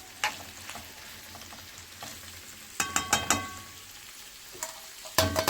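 Chicken gizzards and onion fry in a pan with a steady background sizzle, broken by several sharp stirring clatters and scrapes near the middle and again at the end; no voices.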